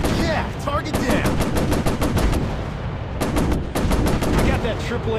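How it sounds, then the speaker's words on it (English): Machine guns on an F7F Tigercat in the VR flight game War Planes WW II fire in loud, rapid sustained bursts, a rattling stream of shots broken by a brief pause. "Damn, machine guns are overheating too fast."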